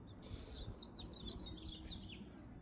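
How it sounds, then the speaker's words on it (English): Small birds chirping outdoors under the Arizona sun near a lemon tree, a quick series of thin, high tweets repeating through the stretch over a low background murmur, moderately distant and fairly faint. "Y'all hear the birds."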